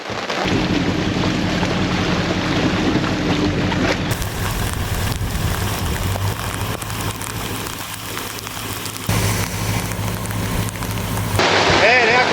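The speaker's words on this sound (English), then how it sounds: "This flogging down rain." Heavy rain pours steadily at a riverside camp, a dense roaring wash of water with low rumbling underneath, loud and unbroken throughout.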